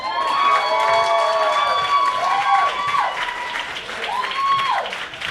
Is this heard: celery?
no